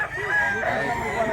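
A big year-old rooster crows close by at a Mantalungon, Barili market, one sustained, ringing call filling the short moment.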